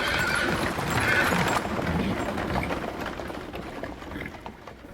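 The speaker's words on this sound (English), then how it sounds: "Krishna tugged the reins of his horses and the chariot raced towards the Pandava" Horses gallop while pulling a chariot, with thudding hooves, a rumbling rush of movement and a brief whinny early on, gradually fading over several seconds.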